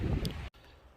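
Wind buffeting a microphone at a mountain lookout along the Arizona Trail near Flagstaff, a loud, rough low rumble for half a second that drops out abruptly, then gives way to softer, steady gusting.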